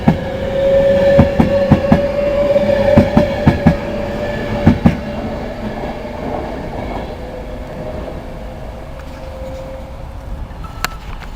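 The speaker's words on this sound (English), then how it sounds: "Just now arriving, the 15:40 Virgin Pendolino service to London Euston" A Virgin Pendolino train pulls into Birmingham International station, a steady rail rumble with a sustained tone and repeated clicking wheel beats over the first few seconds, easing off as the train slows.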